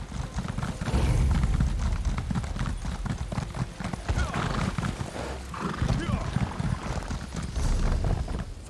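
Rapid, continuous clip-clop of galloping horse hooves in the video game Elder Scrolls Online with a whinny, busy and loud, with voices speaking over the pounding rhythm.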